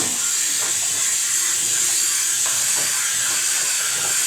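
A handheld shower sprayer blasts water in a loud, steady hissing spray while cleaning out gunk, constant and close with slight shifts in tone as the stream moves.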